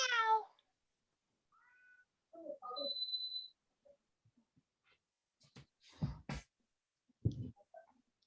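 A cat meows a few times in a quiet room, short faint calls separated by silence, with a couple of louder soft thumps near the end.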